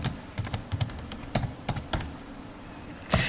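Spreadsheet data entry in BrOffice Calc on a computer keyboard: a close run of quick, uneven keystrokes, with clusters of clacks and short pauses, ending on a firmer key hit.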